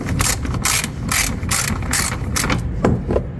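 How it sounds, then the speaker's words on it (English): A hand ratchet clicks in quick bursts of rapid pawl ticks while backing out 10 millimeter bumper screws on a GMC Yukon. The ratcheting is close and loud, over a dull background rumble. "10 millimeter again, unscrewing that."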